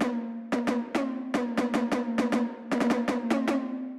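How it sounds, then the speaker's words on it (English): Tight, deep percussion sample pitched an octave lower so it resembles a tom drum, struck in an irregular run of about fifteen sharp hits with ringing low tone, some in quick doubles, close and alone. "to me, that sounds completely like a tom."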